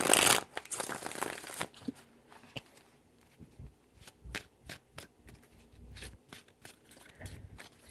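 Tarot cards being shuffled by hand: a dense crisp riffle at the start, then a series of separate sharp card taps and flicks, close and fairly quiet, with no talking.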